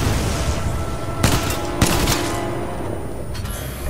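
Gunfire in the video game Titanfall 2, with a few loud, sharp shots ringing out over a dense, constant wash of in-game battle noise.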